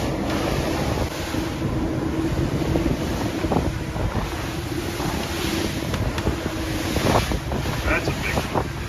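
A boat leaving New York Harbor near Sandy Hook rides rollers on an outgoing tide with wind coming in, giving a constant loud roar of wind buffeting and water rushing against the hull, with occasional thumps.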